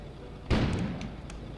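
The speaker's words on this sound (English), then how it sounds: "explosion suddenly occurred outside." Explosion outside in a video game, a sudden loud boom that breaks over quiet ambience and tails off into a rumbling decay, with faint small pops after.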